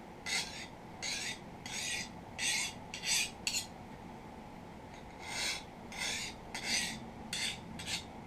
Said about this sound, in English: I'm going to take this file, plain old flat file, and I'm going to cut that burr off of there.